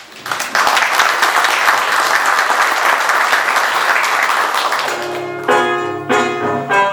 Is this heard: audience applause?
yes